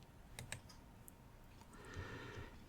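A computer mouse on a Windows 10 PC gives a few quiet, sparse clicks, close by in an otherwise hushed room.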